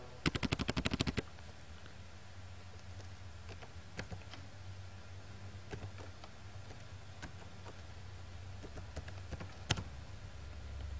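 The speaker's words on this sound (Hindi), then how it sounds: "हमारा पासवर्ड जो करेक्ट नहीं है मैं दोबारा टाइप करता हूँ।" Laptop keys clatter in a quick, rapid burst as a password is typed, then a few scattered single clicks follow over a quiet room hum.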